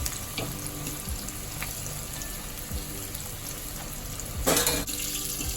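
Chicken pakodi deep-fries in oil with a steady crackling bubble throughout, and a short louder burst of sizzle splashes up as the pieces are turned.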